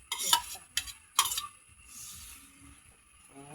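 Onions going into a pan and sautéing, with a few sharp stirring scrapes and clinks early on, then a soft steady sizzle that fades toward the end.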